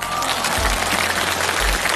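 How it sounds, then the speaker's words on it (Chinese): Studio audience at a televised Cantonese pop music show breaks into sustained, dense applause, a steady wash of many hands clapping close and loud for the full two seconds, with no speech over it. "你们给他掌声好吗？"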